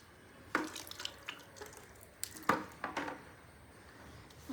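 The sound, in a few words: water running while washing newborn clothes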